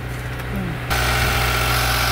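A car engine catches and settles into a steady idle in extreme winter cold after a new battery is fitted, a loud constant drone that begins abruptly partway through.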